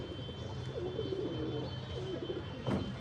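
Rocky pigeons kept by a hobbyist and let out to fly: a faint, low cooing call near the middle, over quiet background hum.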